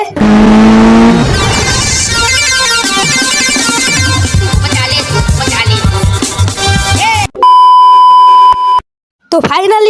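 Car driving in the mobile game Indian Bike Driving 3D, with loud synthetic engine and motor sounds layered under bright game music and electronic beeps, ending in a sustained tone, a brief silence and a burst of sound.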